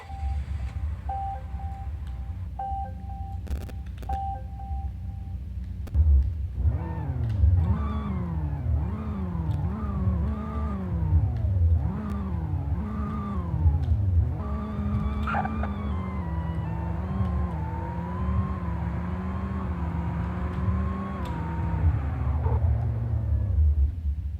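Car engine in the Roblox game Greenville, revved repeatedly in short rising pulls, then a longer sustained climb held at high revs before cutting off, fairly close, no talk.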